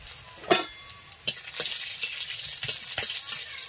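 Onion with bay leaf and panch phoron crackles in hot oil for shukto, punctuated by several sharp spatula taps and scrapes against the pan before settling into an even sizzle.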